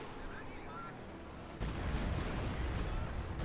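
Stuka rocket artillery fires in a Company of Heroes 2 battle, a harsh roaring salvo that bursts in partway through and continues as a dense rumbling barrage beneath the game's ambient noise.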